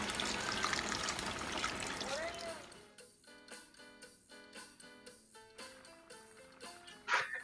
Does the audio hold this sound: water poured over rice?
yes